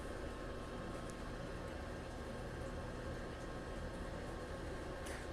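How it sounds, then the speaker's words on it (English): A Twin Eagles grill's fan runs steadily as the grill heats back up, giving a faint, continuous whir that stays even throughout with no talk. "So now you can hear it getting back up to that temp, that fan kicking in"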